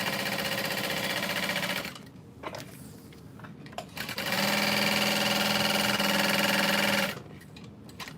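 A sewing machine runs steadily while stitching around the edge of a diaper bag tester, two long continuous bursts of close, even motor whir broken by a short pause of handling noise.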